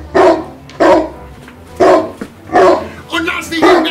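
A dog barks loudly and close in a German Sherlock Holmes drama, five or six sharp barks in a steady rhythm, and one bark sounds like a voice imitating the dog.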